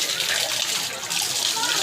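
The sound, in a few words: water flowing from a temple spout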